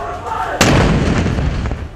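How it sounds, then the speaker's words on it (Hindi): A single heavy artillery cannon blast booms out during a military full-dress rehearsal at Colonel Sher Khan Stadium in Peshawar, a sudden loud crack followed by a long rolling echo. "पेशावर का कर्नल शेर खान स्टेडियम तोपों की घन गरज से गूंज उठा।"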